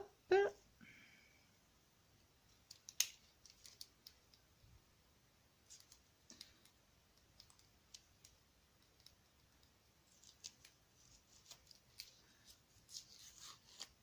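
Scissors snip through card paper for a handmade stamped card, soft scattered clicks and cuts at close range, quiet and sparse over the stretch, with a brief burst of speech near the start.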